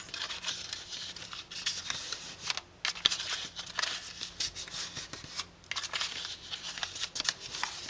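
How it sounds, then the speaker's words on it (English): Cardstock folded along scored lines for a handmade cupcake box, giving a run of dry crisp creases and papery rustles at close range, steady over several seconds with no voices. "Now I can go ahead and fold my scored lines."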